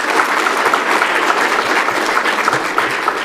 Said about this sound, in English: Please give Karishma and the panel another round of applause.